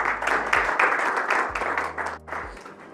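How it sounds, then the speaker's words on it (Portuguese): Audience applause at a business HR breakfast conference in Mozambique: a steady wash of many hands clapping, fairly close and sustained for several seconds, with no talk over it. "Vamos fazer palmas, por favor."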